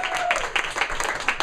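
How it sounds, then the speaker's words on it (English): Brief burst of audience applause, scattered claps close by over a muffled background murmur. "So give Jean a big round of applause."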